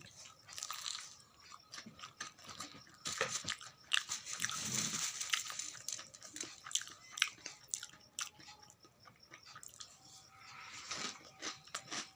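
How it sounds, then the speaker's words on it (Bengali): Crispy fried eggplant fritter (beguni) being bitten and chewed up close, with repeated crunchy bites and chewing sounds throughout, no speech. "আর এই বেগুনিটা আজকে দোকান থেকে যাই বাবা কিনে নিয়ে এসেছে, সেই জন্য খাচ্ছি।"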